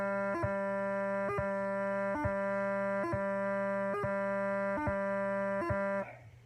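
Bagpipe practice chanter holding a steady reedy drone-like tone, broken about seven times by short, sharp grace-note flicks at an even rhythm before the note cuts off near the end; close and clear, no speech.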